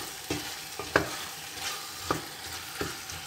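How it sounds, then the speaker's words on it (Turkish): Vegetables, carrots among them, frying in a pot on the stove: a soft, steady sizzle broken by several sharp scrapes and clinks as they are stirred, with no voices. "Altında kısayım bu güzelce kavrulsun."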